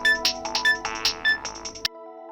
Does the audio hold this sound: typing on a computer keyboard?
no